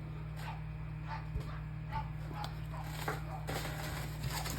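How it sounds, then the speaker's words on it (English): A dog barks in short, intermittent yips and woofs from nearby, scattered across a few seconds over a low steady hum. "Again, I apologize for the barking dog."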